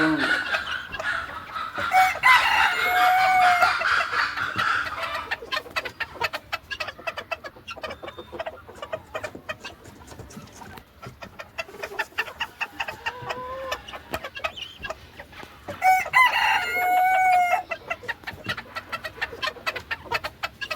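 Brahma chickens cluck and call nearby, with a rooster crowing in bursts at the start and again near the end over scattered fowl chatter.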